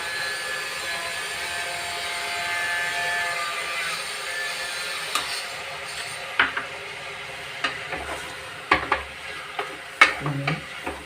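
Onions sizzling in a hot pan with salt and turmeric, a steady close frying hiss broken toward the end by a few sharp stirring scrapes and knocks against the pan.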